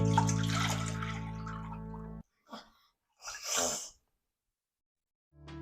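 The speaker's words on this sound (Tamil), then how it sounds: "நம்ம பேனை ஹீட் பண்ணிக்கிட்டு அதில் பாலை ஊற்றும்" Milk pours into a heated pan with a continuous, close liquid rush for about two seconds, then silence broken by a few short splashy bursts.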